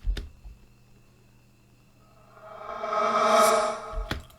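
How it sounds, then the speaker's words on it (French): A reversed rap vocal swells gradually from near silence to a bright, smeared peak and cuts off abruptly, with an eerie backward-sucking quality. "ça va inverser directement la voix"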